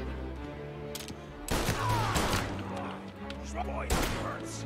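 Pistol shots in Mafia Definitive Edition, a few sharp bursts of gunfire at moderate distance over a busy game soundscape, with brief talk nearby.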